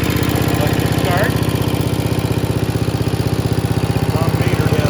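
A restored WWII SCR-543 radio set's generator engine runs at a steady idle, a loud, rapid, even chugging pulse that continues throughout with no talk over it.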